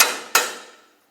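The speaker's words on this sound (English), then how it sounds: "You can use a hammer to drive it through." Two sharp metallic hammer strikes drive a bolt through a rear strut assembly on a 2007-2010 Chrysler Sebring, each ringing briefly and fading out, close and loud with no talk.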